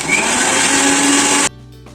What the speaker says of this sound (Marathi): नंतर मी तिला छान ग्राइंड करून घेते.